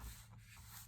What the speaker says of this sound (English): I'm just going to rub my bone folder over it